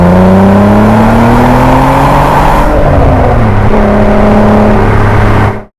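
A Volkswagen Mk4 Golf R32 engine revs loud and close, the note climbing then dropping back before rising again, ending abruptly.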